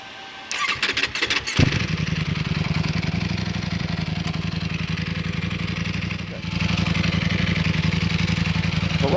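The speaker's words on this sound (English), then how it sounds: "let's actually start the bike" Ducati Panigale V4 superbike fired up: a brief starter whirr and clicks, then the engine catches and settles into a loud, close, steady idle with a rapid pulsing beat and a slight shift in tone near the end.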